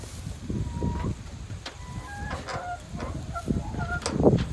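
Chickens in a homestead coop cluck and murmur at close range, with short rising calls and a brief squawk near the end over a soft background rustle.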